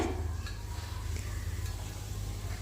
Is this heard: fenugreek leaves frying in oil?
yes